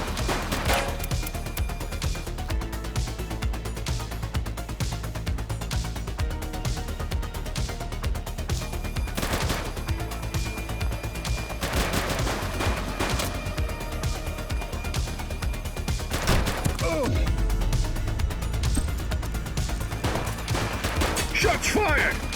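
Sustained gunfire rattles through a shootout in The Precinct on PS5, with bursts of rapid shots and crashes layered over a continuous loud din, while voices shout intermittently beneath it.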